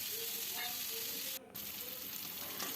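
Pointed gourd and potato frying in oil over a low flame, a steady close sizzle with a brief dip in the middle, no speech.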